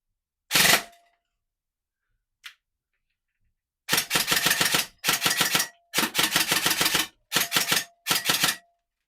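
A Kriss Vector airsoft submachine gun fires one short burst, then after a pause a string of rapid full-auto bursts with brief gaps until the BBs stop feeding, close up and sharp.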